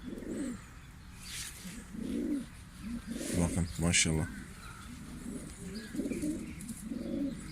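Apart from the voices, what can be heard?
pigeon cooing, Diyarbakır Güllü breed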